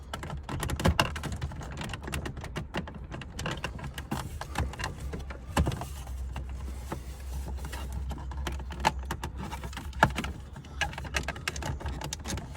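Small, dry clicks and creaks of brittle, aged plastic as the steering column shroud of a 2000 Chevrolet Blazer is pried loose, with quiet, scattered snaps at close range and no talk.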